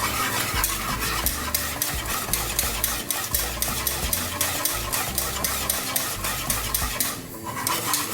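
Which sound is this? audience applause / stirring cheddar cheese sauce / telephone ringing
stirring cheddar cheese sauce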